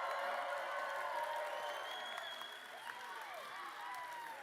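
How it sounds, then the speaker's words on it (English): Audience applause with scattered cheers and whoops rises at a Yale class of 2024 graduation diploma ceremony, fairly distant and gradually thinning out. "They deserve this applause."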